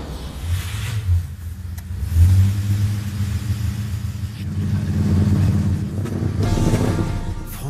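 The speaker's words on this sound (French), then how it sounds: "Le moteur chante une belle mélodie." A 1955 Simca Vedette Régence engine starts and revs in repeated swells, a deep rumbling mid-range drone rising and falling over several seconds, loud and close, with no talking.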